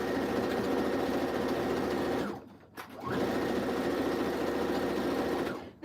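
A sewing machine stitches a zipper pouch in a steady, fast whirring run that stops briefly in the middle, then starts again at the same pace until the end.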